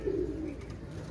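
KTM teddy pigeons give a brief low coo amid a hum of background noise, heard close by without any talking.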